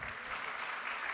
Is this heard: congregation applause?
yes